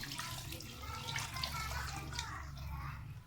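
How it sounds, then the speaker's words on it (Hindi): Two glasses of water are poured into a pot of aloo chicken shorba over the mixed masala, a faint steady splashing pour with a voice speaking softly underneath. "अब इसमें हम 2 गिलास पानी ऐड कर देंगे"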